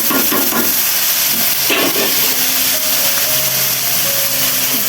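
Onions and okra frying in a pan with turmeric and salt, a steady loud hiss and sizzle throughout with faint clinks of stirring, no talking.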